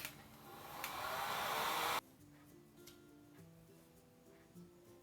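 A hair dryer blows steadily for about two seconds to dry paint on an MDF Christmas ornament, then cuts off abruptly, leaving quiet background noise.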